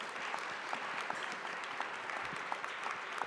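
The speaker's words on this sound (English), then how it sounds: "big round of applause for all of our speakers" Even, sustained applause from a conference audience for the speakers of an osteosarcoma panel, a dense distant wash of clapping at low volume with a few sharper claps standing out.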